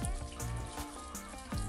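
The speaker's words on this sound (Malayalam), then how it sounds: "അരി ഇതിലേക്ക് ചേർക്കുന്നുണ്ട്." Washed rice tipped into a pot of boiling water while making neyyipathiri gives soft, quiet splashes and trickling, with a few distinct plops of grain and water near the microphone.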